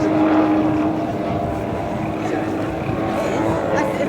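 Aerobatic aircraft with a large rudder performing flicks along the flight line at the Rougham air show, a loud, steady engine drone that fills the whole stretch with little change, faint voices underneath.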